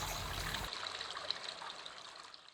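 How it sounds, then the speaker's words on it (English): Water trickles gently in a garden, a soft continuous babble close by, fading slightly as the clip goes on, with no talking. "every so often to sit back and listen to the sound of the water"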